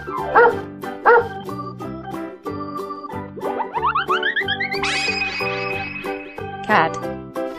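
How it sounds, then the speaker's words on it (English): A cartoonish dog bark among bouncy musical effects, boings and a rising slide whistle, played over a busy backing tune. "Dog."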